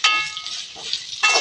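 Food sizzles in a hot pan as a utensil scrapes and stirs while making coconut rice, two louder bursts of frying at the start and end, close up.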